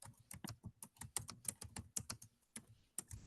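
Rapid typing on a computer keyboard, a steady run of crisp, close key clicks with uneven rhythm and occasional heavier strokes, heard alone without talk.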